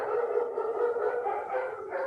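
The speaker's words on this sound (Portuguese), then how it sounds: "é só eu começar a aula que começa esse desespero dos cachorros do vizinho da frente" The neighbour's dogs bark and yelp across the street in a continuous frantic chorus, moderately distant and unbroken, with no voices.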